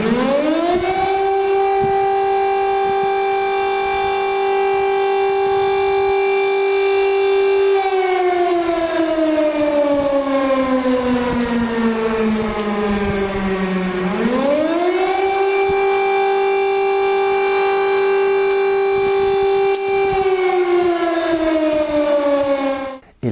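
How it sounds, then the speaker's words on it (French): A French national alert civil-defense siren wails steadily, its tone holding, sliding down, then sweeping back up in a slow rising-and-falling cycle, loud and unbroken with no voices. "Le signal national d'alerte se compose d'un son modulé montant et descendant de 3 séquences d'1 minute et 41 secondes"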